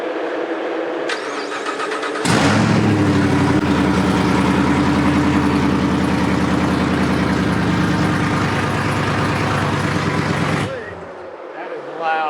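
Ford Mustang V8 with open headers fires up and settles into a loud, deep, lumpy idle close by, running steadily for about eight seconds before cutting off, with a few voices around it.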